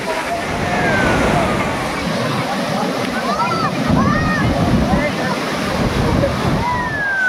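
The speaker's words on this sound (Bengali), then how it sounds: "আমি ঢেউগুলো আপনাদেরকে দেখাই।" Waves roll and break on Cox's Bazar sea beach at sunset in a continuous wash of surf, with faint talk and distant noise in the background.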